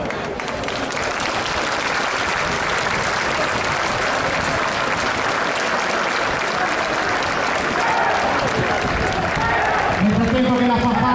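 Spectators at an Italian Air Force association rally parade applaud a departing military brass band, with loud, continuous clapping from a large outdoor crowd that holds steady, and some voices and band tones rising near the end.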